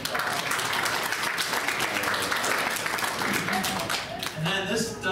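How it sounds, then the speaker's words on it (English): Applause from an audience at a birthday gathering, dense and sustained at a steady level, easing slightly near the end as a voice starts speaking over it. "So give them a round of applause"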